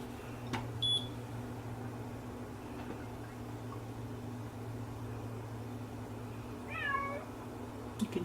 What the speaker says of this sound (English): You can hear my cat howling outside.